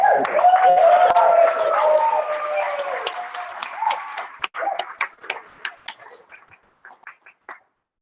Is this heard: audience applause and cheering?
yes